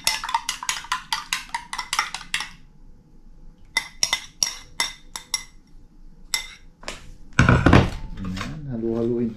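A utensil clinks rapidly against a bowl while batter with egg is mixed by hand, coming in quick rhythmic bursts separated by pauses, with a voice speaking briefly near the end.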